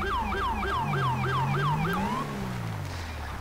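A fast yelping police siren from a Rumbler siren mod in Grand Theft Auto 5 whoops in quick repeated cycles, loud and close, then slides into a lower wavering tone before fading slightly.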